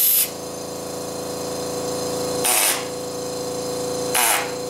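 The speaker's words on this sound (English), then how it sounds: "So I'm going to just hold on to the engraver here. But now I'm running the controls pedal down below." An FK2520 pneumatic air graver runs steadily under pedal control, a continuous buzzing hum broken by three short hissing bursts of air, close and fairly loud, with no talking.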